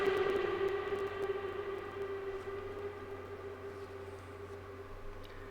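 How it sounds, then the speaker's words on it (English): Genesis Pro synthesizer with its detune effect engaged, a sustained tone whose layered pitches waver and sweep slowly, fading gradually in level over several seconds. "It's almost like it's modulating the pitch of the sound, which is a fairly cool effect actually."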